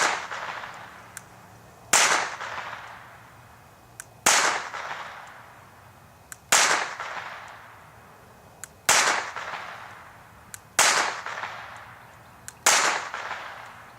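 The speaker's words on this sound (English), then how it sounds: "This is a 22 Minx that shoots short rounds, and we're going to fire it right here" A .22 Minx pistol fires .22 short rounds: six sharp, loud cracks at a steady interval of about two seconds, each trailing off in an echoing decay outdoors.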